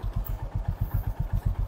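A motorcycle engine idles close by after the bike is started, a steady rapid low thumping pulse with a faint clatter on top.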